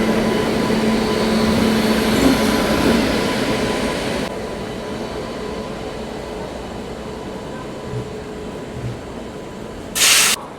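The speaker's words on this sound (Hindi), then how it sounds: "यहाँ प्लेटफॉर्म नंबर 4 पे आ चुकी है 12423 डिब्रूगढ़ न्यू दिल्ली राजधानी एक्सप्रेस" 12423 Dibrugarh New Delhi Rajdhani Express arriving at platform 4, a loud broad rolling hiss and rumble of passing coaches that drops partway through to a quieter steady roll, with a short burst of hiss near the end.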